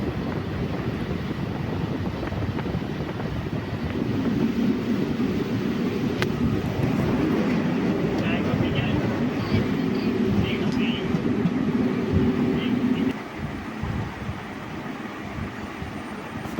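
16342 Guruvayur Intercity Express runs from Kollam toward Guruvayur in light rain, a continuous rumbling roar with wind buffeting that swells louder through the middle stretch before easing.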